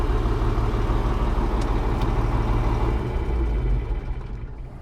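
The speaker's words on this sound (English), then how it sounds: "Let her cool down a little bit, that turbocharger, you know." A tractor's turbocharged diesel engine idles steadily to cool the turbocharger, a loud, even rumble close by that fades slightly near the end, with no talking.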